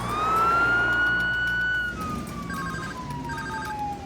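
A warbling electronic tone rings continuously, rising and falling like a siren-style ringtone, with a softer repeating beep pattern joining near the end.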